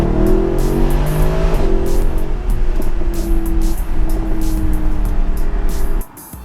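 Mercedes-AMG GT R on a road test, engine revving hard with rising, shifting tones and crackly exhaust bursts, loud and close from inside the car, dropping off abruptly near the end.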